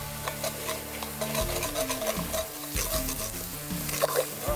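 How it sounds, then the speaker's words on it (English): A pot of elk chili is deglazed with beef broth while the bottom is scraped. Steady sizzling and bubbling carry on throughout, broken by repeated scraping and rubbing strokes against the pan. "I'm going to scrub the bottom of this with a little bit of beef broth just to deglaze it."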